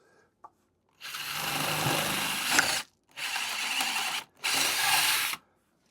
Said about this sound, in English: I'm going to drill all the way through with a 3/8-inch drill bit